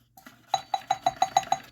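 A doorbell chime triggered by its push button, heard as a fast series of about seven evenly spaced bright electronic tones, close and clear with no talking.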